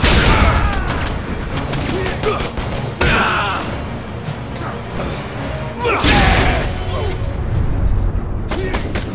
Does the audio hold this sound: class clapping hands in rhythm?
no